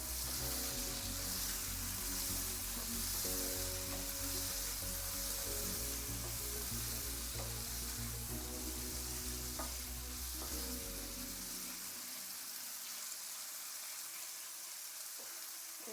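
Tomato and brinjal frying in a pan for a snake gourd chutney, with a steady loud sizzle and stirring scrapes that run continuously, a low hum cutting out near the end.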